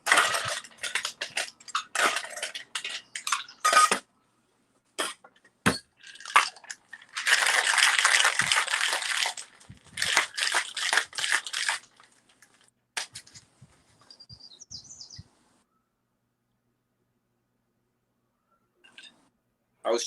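Ice clatters and rattles into a glass being chilled for a cocktail, loud and close in dense bursts for about twelve seconds, then sparse clinks and near silence.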